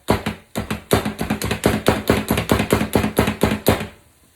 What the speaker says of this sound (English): Then we're going to chop some bell pepper too.